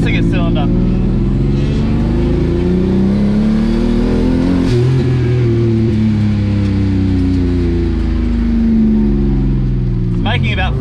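A turbocharged BMW E36 M50 engine revs under boost nearby, rising and falling in loud sweeping pulls, with a sharp climb near the middle and a short burst of higher revs at the end.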